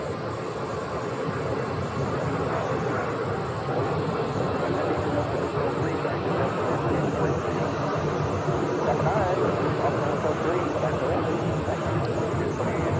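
An airliner taxis toward runway 25 right for departure at the Phoenix airport, a steady distant engine roar and broadband rumble throughout, with radio chatter and voices talking over it.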